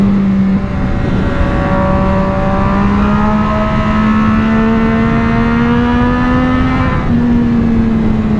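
Triumph Street Triple 765RS motorcycle engine revving loud and close as the throttle is worked, its pitch climbing steadily and holding in a sustained drone, with no talk over it.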